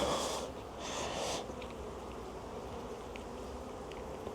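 Honeybees buzz around an opened hive during a brood inspection, a faint, close hum with a couple of louder swells near the start before settling into a low, steady drone.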